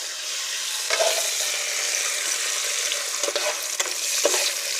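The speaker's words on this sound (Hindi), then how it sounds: "मैंने एक साइड पे घी को मैंने गरम किया है और उसके अंदर मैं ये डालूंगी प्याज" Sliced onions dropped into hot ghee in a pan sizzle and crackle steadily, with a few louder bursts of spattering and scraping as they are stirred, close up and with no talking.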